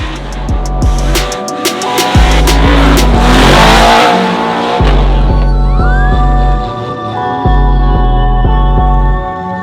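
A FormulaDrift drift car engine, running in questionable health during qualifying, revs very loudly and close in repeated bursts that climb to a sustained roar, drop off, and surge again with a rising whine.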